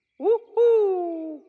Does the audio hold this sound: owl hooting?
yes